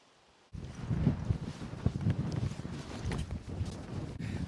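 Strong wind buffets the microphone across flat, open Fens countryside, starting abruptly after a short quiet and then roaring continuously in loud, gusty rumbles.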